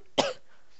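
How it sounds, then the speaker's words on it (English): A single short cough, close and fairly quiet, followed by silence. "Sorry about cough."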